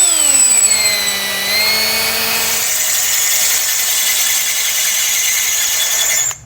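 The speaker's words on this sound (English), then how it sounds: "And now we'll drill both of those out using a 1/4-inch drill bit." Power drill boring holes with a 1/4-inch bit during a Blue Ox base plate install on a 2020 Jeep Cherokee: a loud, steady high whine that drops in pitch as it bites, then a continuous grinding squeal until it stops abruptly.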